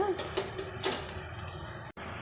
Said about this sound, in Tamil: கொஞ்சம் உப்பு, ஒரு 2 நிமிஷம் அப்படியே பிரட்டி எடுத்துக்கலாம்.